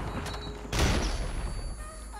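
Gunfire in an online shooter video game against bots, with a brief burst of shots and then a louder blast of gunfire that decays over the rest of the moment, fairly quiet overall.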